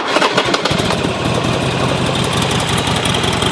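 Buell XB12R motorcycle engine, previously fire-damaged and repaired, cranking and firing up within the first second, then settling into a loud, close, lumpy idle with steady rhythmic pulses.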